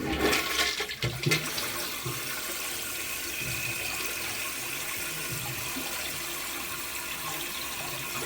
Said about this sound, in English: Let me just give it a little flush.